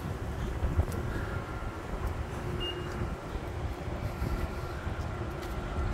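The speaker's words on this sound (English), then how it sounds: "look at the wind, how the wind is moving the trees around" Strong wind gusting through trees in a city hospital parking lot, a steady broadband rush with buffeting against the microphone and no talking.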